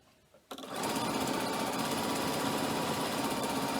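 Sewing machine runs steadily as it stitches along the edges of a long cork messenger bag strap, starting abruptly after a quiet moment and then holding a loud, continuous whirring hum without pause.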